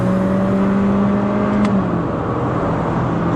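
A Honda Accord engine accelerating, a steady interior whir with a rising then falling tone as the car gathers speed, loud and continuous with road noise underneath.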